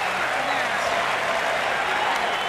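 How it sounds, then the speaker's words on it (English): Tennis crowd at the 1991 US Open applauding and cheering steadily in a large stadium, a dense continuous roar of clapping with voices mixed in. "Listen to the crowd."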